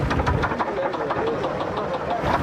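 A truck engine with a faulty piston, suspected to be number six, runs with a rough, rapid knocking rhythm over its idle, close and fairly loud, while people talk over it.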